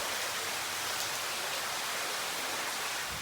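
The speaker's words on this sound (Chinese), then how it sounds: "听着水哗哗的流，" Water rushes continuously inside a limestone cave near New Melones Lake, California, a dense, even hiss like a waterfall that fills the whole stretch without any voices.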